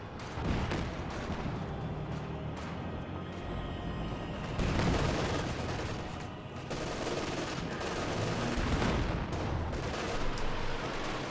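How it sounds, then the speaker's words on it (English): Katyusha rocket barrage in Company of Heroes 2, a dense rolling salvo of booming launches and explosions that carries on loudly and continuously with brief surges, no voices over it. "Katusha barrage running on in."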